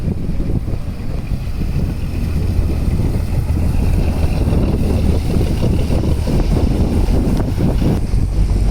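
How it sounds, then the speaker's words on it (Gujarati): A fishing boat approaches across Veraval harbour, its steady low engine rumble blending with gusty wind buffeting the microphone throughout, with no voices. "સામેથી બોટ આવે છે."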